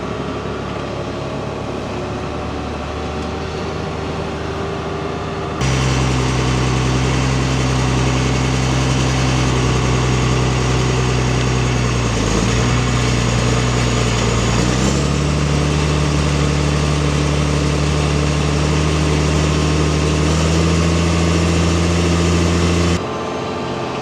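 A four-wheel-drive vehicle's engine drones steadily while it cruises on auto steer, a loud low hum with a faint fan-like whir and a slight shift in pitch midway, with no talk.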